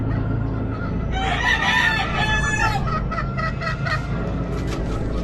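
Gamefowl roosters of a Hatch cross Domes line crowing at a gamefowl expo lineup, one loud nearby crow rising over a steady background of other birds and crowd noise, with fainter crows later.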